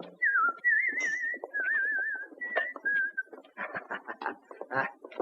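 A person whistles a march tune: a string of clear, warbling sustained notes is followed by shorter broken phrases and scattered clatter, close and moderately loud, with no talk.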